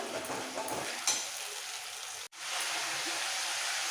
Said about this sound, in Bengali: পেঁয়াজটাকে খুব ভালো করে ভাজবো